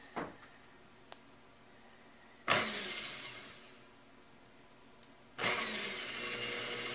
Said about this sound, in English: we're going to turn our blender back on.